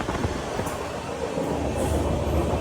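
A 12260 Bikaner–Sealdah AC Duronto Express runs through Chunar Junction on Indian Railways, giving a loud, steady rumble of wheels and carriages with faint rattles throughout.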